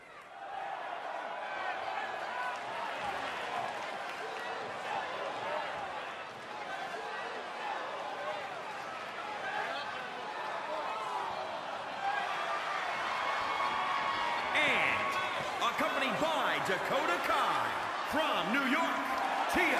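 Arena crowd in WWE 2K20 during an NXT match between Aliyah and Tegan Knox, a steady, constant roar that swells slightly later on, running under continuous commentary.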